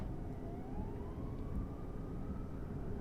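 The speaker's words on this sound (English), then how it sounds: "That was actually a cop car. Or a police car, as we like to say in the UK." Police car siren in Train Simulator 2015 on a South London route, a faint rising wail heard once at a distance beneath a loud, steady train rumble.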